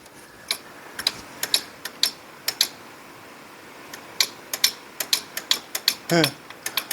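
A Brunswick A2 bowling pinsetter gearbox with a bent solenoid mount plate is cranked by hand with the power off. It gives a sequence of sharp, close mechanical clicks and ticks at an uneven pace, with a short grinding rattle near the end.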